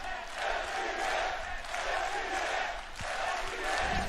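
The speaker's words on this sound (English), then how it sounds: "mereka cheering buat FPX anjir" A large crowd at a Valorant esports match between FPX and Optic cheers and chants in loud, sustained swelling waves that fill the arena.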